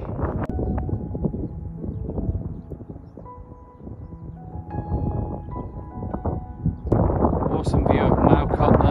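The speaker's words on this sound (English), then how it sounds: "it's way too windy" Heavy wind buffeting a microphone outdoors near Red Street, Stoke-on-Trent, rumbling and gusting throughout, growing louder toward the end.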